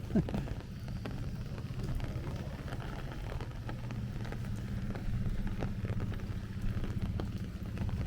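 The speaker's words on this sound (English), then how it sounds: "We are now over an hour of walking in the rain." Steady rain patters and hisses across the street in Bensonhurst, Brooklyn, a continuous wash of noise with a low rumble underneath and no voices.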